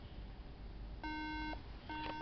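A failing MacBook Pro that will not start gives two short bursts of steady electronic beeping over faint background noise, a pause separating the first tone from the second.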